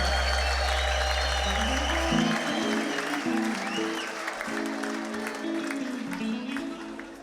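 A church congregation at a New Creation Church youth worship service claps together, sustained applause over lingering organ or keyboard chords, with voices calling out underneath.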